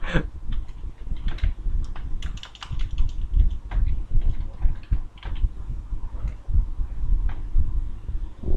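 Rapid, continuous typing on a computer keyboard while setting up a WordPress website, keys clicking close and fairly loud in uneven bursts with no talking.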